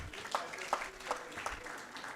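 Scattered clapping from a meeting audience, soft and fairly distant, with a few sharper claps standing out in a loose rhythm against a murmur of room noise.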